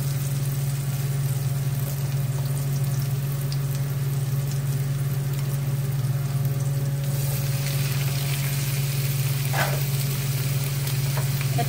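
Tofu fries in a hot pan for a tofu and eggplant dish, giving a steady, close sizzle that runs unbroken over a low constant hum, with no talking.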